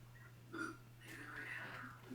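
A single short digitized burp from Sega Genesis Jeopardy! rises and fades quietly, lasting about a second, with no talk over it.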